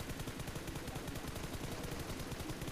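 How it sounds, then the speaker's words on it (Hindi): Dense, continuous gunfire in a shooter video game, with rapid overlapping bursts coming from above, loud and steady throughout with no talking. "जब तक अब मेरे ऊपर फायर होने लग जाता है ऊपर से"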